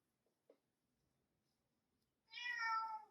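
Panda, a pet cat indoors near a knitting table, gives one clear, fairly close meow near the end after a quiet stretch broken by a soft tap, with no talking.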